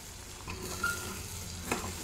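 Ridge gourd egg curry being stirred in a pan, a brief steady sizzle with a couple of soft spoon scrapes and a clink against the pan.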